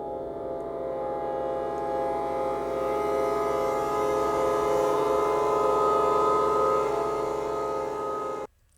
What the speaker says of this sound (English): we have a bassoon effect, which sounds like this.